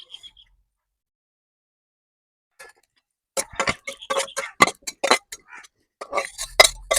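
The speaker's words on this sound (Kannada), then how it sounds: "ಈಗ ಒಂದು ಸ್ವಲ್ಪ ರೋಸಾಗಿ ಹುರಿದು ಒಂದು 4 ಸ್ಪೂನಷ್ಟು ಜೀರಿಗೆ ಹಾಕ್ತೀವಿ" About four spoonfuls of cumin seeds go into a pan for roasting in a village-style masala rice recipe, giving a dense run of sharp clinks and rattles after a near-silent start, close and fairly loud.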